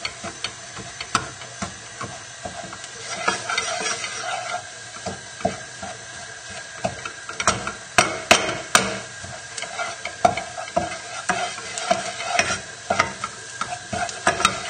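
A flour roux for seafood chowder is stirred steadily in a hot pan, the spoon scraping and tapping in an irregular rhythm over a soft continuous sizzle, close and clear with no voices.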